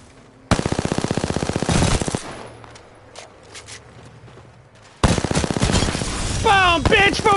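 Smart bullets fire in long, rapid automatic bursts in the Apex Legends video game. Two loud volleys are separated by a quieter stretch of scattered clicks and distant shots.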